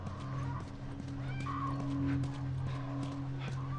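A horse in The Last of Us video game, with soft clip-clop hoof sounds and faint snorting over a steady low game ambience, no speech.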